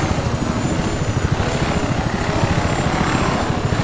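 Little Bird helicopter in Battlefield Desert Combat thrums with rapid rotor chop over a broad engine roar, loud and steady throughout, alone with no talk.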